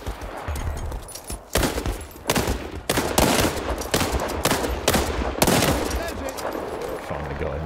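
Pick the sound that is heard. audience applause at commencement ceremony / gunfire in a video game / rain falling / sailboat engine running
gunfire in a video game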